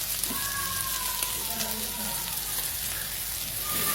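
Fish frying in a pan with chili and coriander leaves, a steady, dense crackling sizzle that continues without a break and sounds close up.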